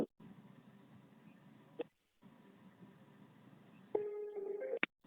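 A low, buzzing telephone line tone as a VFS Global customer care call connects, with a brief click and gap, followed by a steady electronic tone and a sharp chirp near the end.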